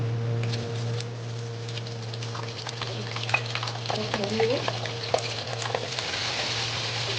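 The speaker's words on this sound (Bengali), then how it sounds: "এবার আমি তেলটা গরম হয়ে গেছে পটলটা আমি ভেজে নিচ্ছি" Stuffed pointed gourd (potol dolma filled with minced meat) frying in hot oil, a steady soft sizzle with light stirring and utensil clicks over a constant low hum, fairly close.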